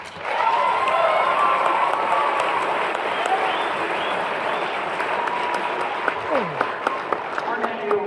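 Audience applause at a youth jazz concert, a sustained burst of clapping from a large crowd filling the hall, steady and loud, with a few light cheers near the end.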